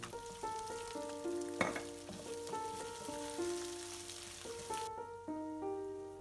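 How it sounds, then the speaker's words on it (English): Chili rempah paste fries and gets stirred in oil for Nyonya stuffed chilli fish, a soft steady sizzle with occasional scraping beneath louder background music. "Fry it until the chili oil is forced out of the paste."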